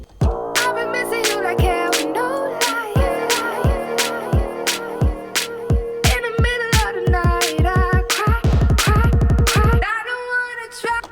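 An electronic drum and bass build-up for a foghorn-style track made in FL Studio, with punchy repeated hits and layered synths, the drums speeding into a rapid roll before it cuts out.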